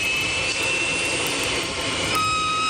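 Airliner jet engines spool up for takeoff with a loud, steady roar and a high whine that shifts in pitch, continuous and alone without talk.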